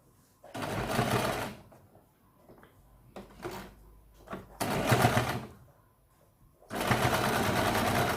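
Sewing machine stitching along a folded inner seam of a katori blouse, heard in three loud bursts of rapid needle chatter separated by quiet pauses with light handling noises.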